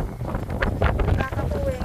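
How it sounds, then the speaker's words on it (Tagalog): Strong gusts of wind buffet the microphone at a riverside picnic area, a rough low rumble in uneven bursts, with voices faintly underneath. "sobrang lakas ng hangin"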